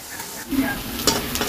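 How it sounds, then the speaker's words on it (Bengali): Fritter (bora) frying in oil just after being turned over, a short burst of steady, close sizzling with a light scrape. "এক পিঠ ভাজা ভাজা হয়ে গেছে, উল্টে দিয়েছি, এখন ওই পিঠটা ভাজা ভাজা হবে"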